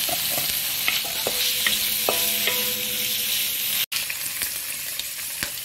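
Bean sprouts, carrot and black fungus sizzle steadily in a hot wok as they are stir-fried, with clinks and scrapes of the spatula against the pan, close and continuous with a brief dropout near the end.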